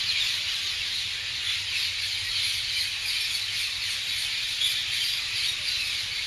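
A flock of parrots in a lemon orchard on a farm keeps up a steady, dense wash of shrill chattering calls, fairly loud and continuous throughout, with no talking.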